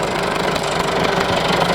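A 4WD 385 manual tractor fitted with GPS auto-steering runs in a field, its engine a steady, loud, knocking diesel drone close by with no pauses.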